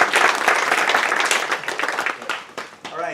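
Theater audience at a student stage company's one-act play festival breaks into loud, dense applause that swells, then thins toward the end, with a few voices mixed in.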